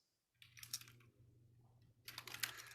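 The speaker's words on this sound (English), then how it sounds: "I'm hearing just a little bit of typing" Faint bursts of typing on a computer keyboard come through during an online workplace talk, two short clusters of quick light clicks over a low steady hum.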